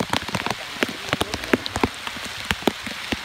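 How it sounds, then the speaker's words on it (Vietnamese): Heavy storm rain pelting a surface outdoors, dense close patter with many sharp individual drop hits over a constant wash of noise, no voices. "Quá trời mưa rồi, mình lấy cái túi chống nước nha cả nhà."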